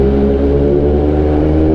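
An MV Agusta race bike engine idling and revving inside a parking garage, a loud, steady low-pitched drone with strong harmonic rumble and echo, close and continuous.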